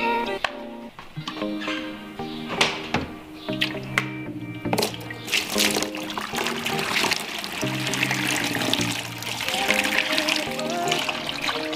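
Water emptied out of a container from a ball python's bath, a sustained splashing pour and trickle that runs through the whole stretch, with some shuffling and handling noises along the way.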